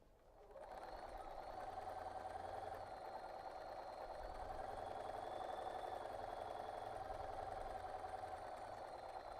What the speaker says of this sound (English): you're going to stop sewing right at that TRP line that we put in there.